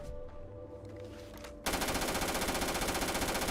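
A submachine gun in Starfield fires a sudden, dense rapid burst that cuts in midway and runs on without pause, loud and close after a quieter stretch of game ambience.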